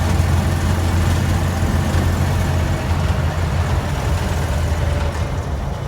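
A 1961 Scout engine idles just after its fuel pump was replaced, a steady low rumble with an even pulse, close and loud throughout without speech.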